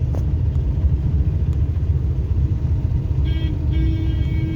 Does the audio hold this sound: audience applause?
no